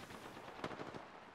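Rapid burst of gunfire from an Apex Legends firefight, a short cluster of quick shots at moderate distance with no voices over it.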